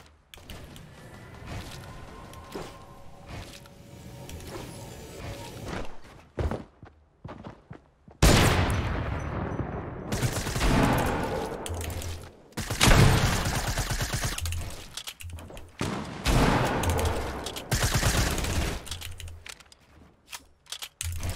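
Gunfire in an online shooter game: bursts of rapid shots and sharp single cracks come in loud clusters after a quieter opening, separated by short pauses.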